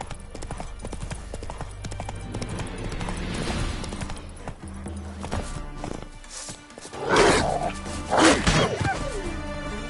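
Roach, a horse in The Witcher 3, clip-clops along with rhythmic hoofbeats, rising into a couple of louder heavy thumps near the end, under a low musical bed and occasional voice.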